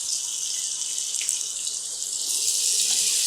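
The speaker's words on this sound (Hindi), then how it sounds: "थोड़ा सा पानी का छटा।" Water is poured into a frying pan of onions and turmeric, a steady hissing, rushing stream that continues throughout and grows slightly louder toward the end.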